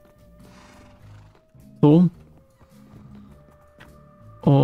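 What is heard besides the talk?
horses neighing in the video game Minecraft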